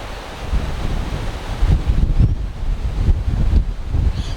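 Wind gusts across a golf course, roaring against the microphone in a low, rumbling wash that swells and eases over a few seconds, loud and continuous with no voices.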